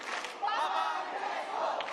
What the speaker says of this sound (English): Shall we do one more cheer with the Papa Francesco?